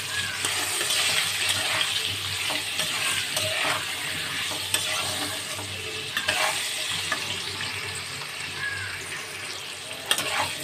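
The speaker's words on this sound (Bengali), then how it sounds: "আলুটা দেখো নেড়ে নিয়েছি" Potatoes stirred in a frying pan with salt and turmeric, a steady close sizzle under repeated scraping and clinking of a utensil against the pan, with occasional sharper metallic taps.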